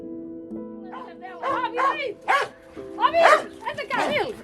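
A hunting dog, a thin female, gives several close, yelping barks and whimpers scattered over a few seconds, mixed with a person talking and a steady low hum underneath.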